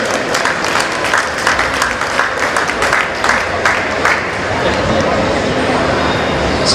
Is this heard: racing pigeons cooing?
no